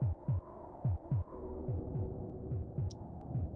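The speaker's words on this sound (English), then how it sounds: "It's been lurking, listening to the heartbeat of God." A steady heartbeat pulses from the Populous SNES video game, low double thumps repeating at an even pace over a soft hum, with a brief faint blip near the end.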